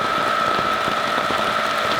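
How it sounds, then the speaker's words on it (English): Heavy rain pours down over a covered garden area, a dense, steady hiss of water with no breaks, filling the whole moment with no voices. "It's pouring rain"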